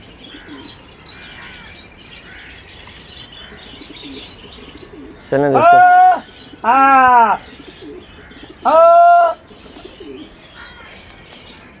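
Pigeons coo softly in the background with scattered chirps, while someone speaks a few short phrases loudly in the middle.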